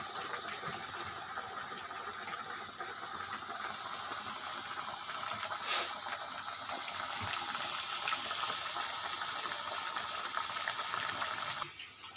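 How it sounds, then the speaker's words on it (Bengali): Vegetable fritters deep-fry in hot oil over a low flame, a continuous soft bubbling and hiss running steadily, with one brief sharp clink near the middle and a sudden drop at the very end. "টকবক টকবক করে ফুটছে একদম"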